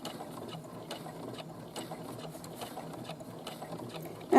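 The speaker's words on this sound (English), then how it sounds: "but you're getting used to the sewing machine" A sewing machine stitching a 5/8-inch seam on pinned fabric, running slowly with a steady rapid mechanical clatter throughout, moderately close, ending in a brief louder bump.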